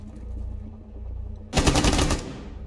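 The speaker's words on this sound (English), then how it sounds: "I think that was a rifle." Rifle fire in the Rainbow Six Siege video game: a sudden loud, rapid automatic burst starting about halfway in, lasting under a second before cutting off, following a quieter stretch of low game ambience.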